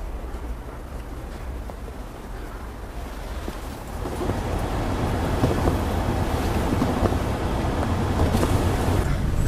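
Wind roars against the microphone during a heavy snowstorm with snow blowing sideways along a city street past Central Park and 7th Avenue. It is a steady broadband rush that grows louder and gustier after the first few seconds, with no voices.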